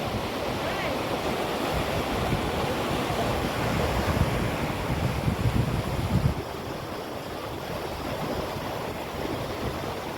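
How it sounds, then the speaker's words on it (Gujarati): River water from the Haliyad side roars into the Munjiyasar dam near Bagasra, a loud, continuous broadband rush that swells slightly midway and then settles into a steady churning flow. "અવાજ કેટલો આવે છે પાણી."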